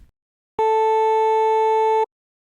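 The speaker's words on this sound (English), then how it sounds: "we should hear two tones being played" Two steady synthesized sine tones at 440 Hz and 880 Hz, made by additive synthesis, sound together as one clean sustained electronic note that starts abruptly, holds for about a second and a half and cuts off.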